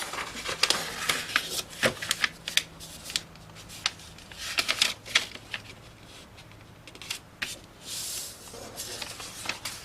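Sheet of paper being folded and creased by hand, a series of close crisp rustles and crinkles in irregular bursts, fairly quiet.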